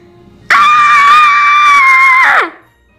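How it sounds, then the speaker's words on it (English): A man's loud, sustained scream of fright from an animated children's fairy tale, rising sharply and holding steady for about two seconds before cutting off, alone with no other talk. ""Ah!" he screamed as he rushed past his friends."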